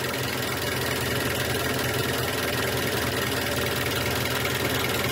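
A car engine idles steadily and loudly during an idle speed control valve test, with heavy vibration and a constant rumbling drone that holds for the full stretch and no talk.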